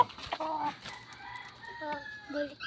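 A Boston gamefowl rooster crows nearby, with short clucks and other fowl calls around it in a small backyard poultry pen. The sounds are fairly faint.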